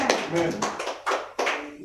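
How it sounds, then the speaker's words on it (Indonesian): A church congregation claps during a Sunday worship service, with several strong bursts of applause close by over the sound of people in the room. "Beri tepuk tangan bagi Tuhan, saudara."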